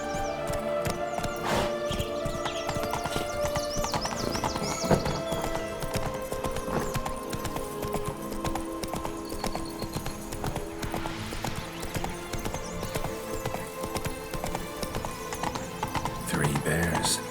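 Horse hooves clip-clop at a steady gallop in The Witcher 3, with a brief neigh mixed into the game's dense music and ambient sound, which stays loud and continuous throughout.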